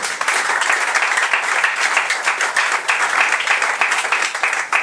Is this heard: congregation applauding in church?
yes